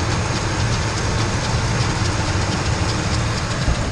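A running 5.4-liter Ford Triton engine, turning near 1,000 RPM, gives off a steady close-up mechanical drone with a faint rapid ticking rattle riding on top, heard alone without voices.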